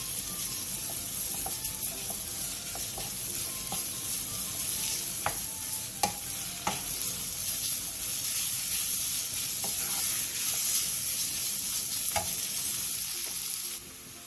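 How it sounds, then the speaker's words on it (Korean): Fish cake and minced garlic stir-fried in oil in a pan over medium heat: a continuous bright sizzle with scattered utensil clicks and scrapes, close and even, ending abruptly. "팬에 기름을 두른 뒤 어묵과 다진 마늘 1스푼을 넣고 골고루 어우러질 정도로만 중불에서 볶아주세요"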